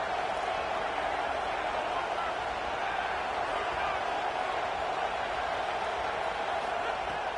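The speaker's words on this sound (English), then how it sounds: "Listen to this crowd just shaking the girders of this place trying to help their defense." A huge stadium crowd roars continuously at a college football game, a dense, steady wall of cheering with no break.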